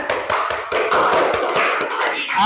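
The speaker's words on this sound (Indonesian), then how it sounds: "Tepuk tangan" A class of students clapping hands together in a school classroom, a rhythmic run of sharp claps at a steady beat, close and fairly loud.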